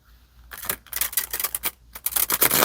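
Tarot cards riffle-shuffled by hand, giving several quick papery bursts of flicking and snapping in close succession, fairly loud and close, with no talking.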